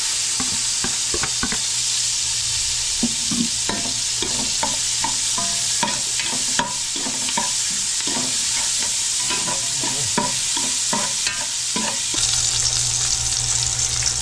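Onions sizzle steadily in a hot pan for caldereta, a constant frying hiss broken by frequent clinks and scrapes of a spoon stirring, close and fairly loud with no talking.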